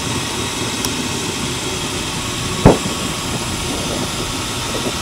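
Car engine idling roughly with some cylinders disabled during a cylinder drop test, a steady uneven drone throughout with one brief sharp click midway.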